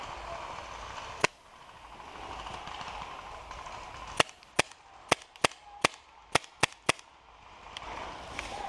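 Airsoft gun firing during an outdoor skirmish, sharp close pops: one early shot, then a quick irregular burst of about eight shots over ambient background.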